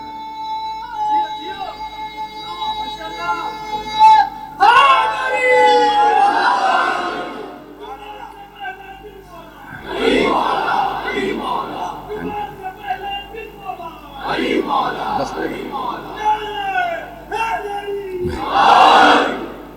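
A crowd at a Muharram majlis gathering roars back chanted religious slogans in repeated loud waves, several massed calls rising and falling after a leader's voice, with sustained echo in a large hall.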